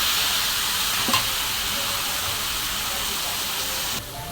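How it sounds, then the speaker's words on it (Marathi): Washed cauliflower and potato pieces hiss and sizzle loudly in a hot pan, a steady close frying noise with a faint clatter as they go in, and the sizzle drops off near the end. "आणि आपण धुतलेल्या फुलावर बटाटा टाकून घेतलेलं"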